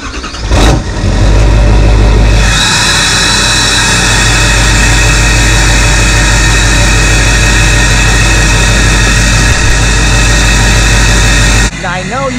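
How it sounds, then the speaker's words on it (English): A Duramax diesel pickup engine cold-starts loudly with a resonator delete, then holds a constant deep, roaring rev for about nine seconds before cutting off abruptly, close to the microphone. "that was the loudest cold start I've ever had on the Duramax"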